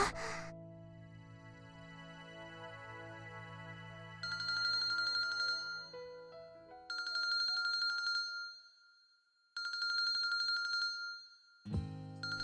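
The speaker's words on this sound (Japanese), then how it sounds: "電話が鳴ってるわ。" A telephone rings in the visual novel Kinkoi: Golden Loveriche, bright electronic trilling bursts repeating three times with pauses between, after background music stops, no talking over it.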